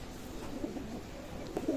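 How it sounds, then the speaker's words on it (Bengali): Two female Pakistani-breed pigeons at a pigeon loft cooing softly, a low rolling coo repeating under a steady background murmur, close but faint. "দুইটা মাদি কবুতর।"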